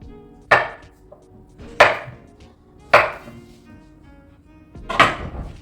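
Carrots being chopped for juice, four sharp separate knife thunks on a cutting board about a second apart, close and clear with no talking.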